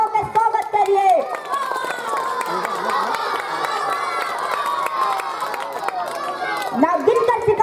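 An audience at a school annual function applauds to welcome the parents, a dense wash of clapping mixed with cheering and children's shouts, with voices and music-like tones running through it.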